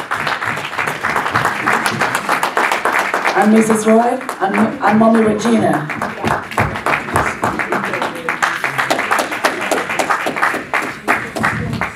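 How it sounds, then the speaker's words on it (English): Applause at a church birthday celebration for a pastor, steady clapping running through the whole stretch under someone speaking over a microphone, with a brief sung or chanted passage in the middle. "Let's clap for them as they come forward."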